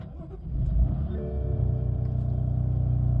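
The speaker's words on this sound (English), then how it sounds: "let's go ahead and start the car" A BMW F80 M3 engine cranks briefly, catches, and settles into a steady low idle close by.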